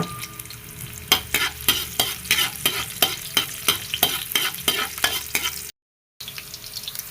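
Onion and garlic sautéing in a pan for vegetable spring rolls: steady sizzling frying with rhythmic stirring scrapes about every half second, close and clear, with no talking.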